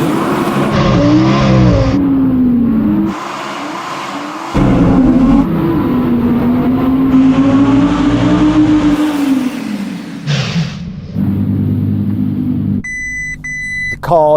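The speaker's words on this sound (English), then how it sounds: "We're just going to have to go with stability off and just floor the throttle" An Audi R8 on winter tyres accelerates hard at full throttle, its engine climbing loudly through several gear changes in long rising sweeps, ending with a short run of electronic beeps.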